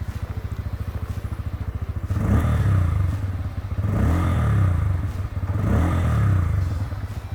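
Bajaj Pulsar N160 160cc motorcycle engine, first idling with a fast, even thump, then revved three times in rising, swelling bursts that fall back between, close and loud.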